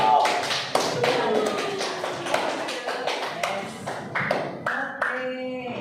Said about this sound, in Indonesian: Tepuk tangan untuk kelompok yang kedua